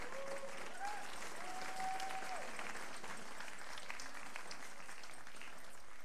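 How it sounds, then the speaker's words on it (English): Audience applause at a European fair tax event, a steady, even wash of many clapping hands heard from some distance, with a faint voice or tone briefly rising over it near the start. "an applause for these people"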